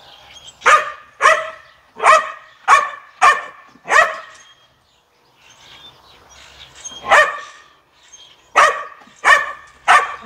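A dog barking close and loud in a steady series of sharp barks, a pause of about two seconds, then another run of barks, with no talk.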